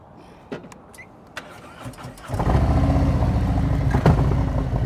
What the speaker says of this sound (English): Listen to my throttle.